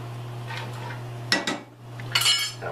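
A metal butter spoon clinks against a pan as garlic goes into a steak glaze: two sharp clinks, then a busier clatter, heard close over a steady low hum with no talking.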